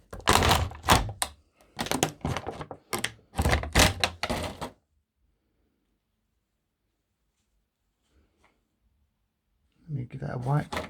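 A Real Steel Luna knife with a black blade coating slicing through a plastic strawberry punnet, a quick series of sharp crunching, snapping cuts in bursts, then silence, then more cutting.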